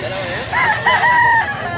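A rooster crows once at a pet market, a close, loud call that rises and holds for about a second over steady crowd murmur and background noise.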